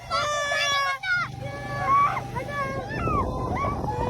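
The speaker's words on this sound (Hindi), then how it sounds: "कुत्तों की आवाज़ें आ रही है भाई।" Several dogs bark, whine and howl at night by a graveyard, rising, wavering cries repeating close by over a low rumbling background.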